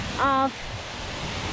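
A big waterfall in Cambodia roars as a steady, even wash of noise, heard from the top stair, with a brief spoken word over it.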